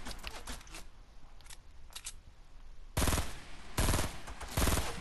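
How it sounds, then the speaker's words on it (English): Fortnite gunfire crackles in rapid bursts, first faint and scattered, then loud close volleys of quick repeated shots in the second half, with no talk. "Are they shooting at you?"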